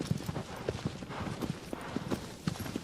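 Hooves of Agro, the horse from the PS4 game Shadow of the Colossus, walking at a steady clip-clop pace, soft and moderately close, alone with game ambience.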